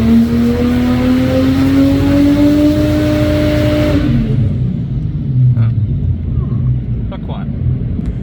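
A tuned car engine revs on a dyno during a tuning run, holding a loud, rising drone for several seconds before backing off into a lower rumble, with rattles and clanks afterward.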